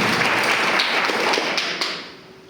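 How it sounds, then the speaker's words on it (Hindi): An audience at a Safe Shop business gathering claps loudly, with dense, energetic applause that tapers off and fades out over the last half-second. "एक जोरदार ताली होना चाहिए।"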